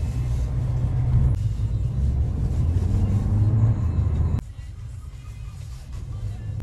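Interior drive of a 2024 Mercedes A200 sedan with a 1.3 turbo engine: a low, steady engine and road rumble, louder at first and then easing as the car slows, no clear talk.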